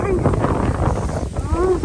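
Strong wind blows outdoors on a sunny but cold day in Sweden, a steady loud rumbling buffet across the microphone while someone talks over it throughout.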